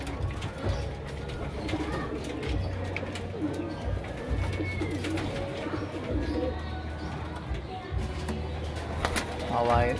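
Pigeons in a loft coo in low repeated pulses, with scattered wing flaps and rustling close by, while someone talks over them.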